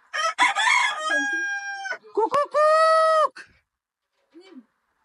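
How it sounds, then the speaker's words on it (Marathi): A rooster crows loudly and close by on a farm, with two long drawn-out calls broken by short clucking notes and a faint cluck at the end. "चायला कॉम्पिटिशन आहे हा कोंबडा मला."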